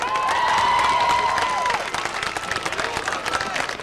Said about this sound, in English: give a nice round of applause once again for our top three vote getters